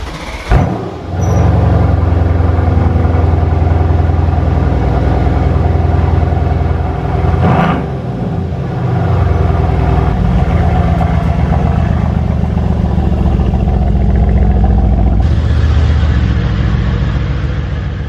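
A dirty 503-hp Mercedes C63 AMG pulls away on the road, its loud, steady engine drone carried throughout with a brief dip and rev change midway, close and dominant.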